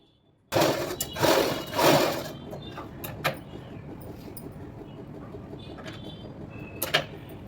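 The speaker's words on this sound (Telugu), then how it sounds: "అందుకే పాపం చున్నీ బాగా స్టిచ్ చేసి ఇంకా ఇచ్చేద్దామని చెప్పి మిషన్ అయితే ఎక్కాను" A sewing machine stitching a dupatta starts abruptly with a loud mechanical whir, surges a couple of times, then settles into a steadier, quieter running hum with a few clicks and a brief burst near the end.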